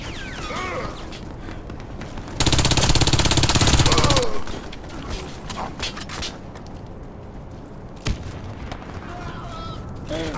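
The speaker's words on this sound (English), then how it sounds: "I shot my shotgun!" A shotgun blast in the online shooter Warface bursts out loud and broad for about two seconds mid-clip, set among quieter in-game clatter and a sharp knock near the end.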